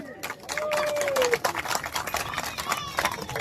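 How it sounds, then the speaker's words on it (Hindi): A crowd at a public gathering breaks into dense, sustained applause that builds and stays loud, with voices and a rising tone heard over it. "जोरदार तालियों से स्वागत करिए।"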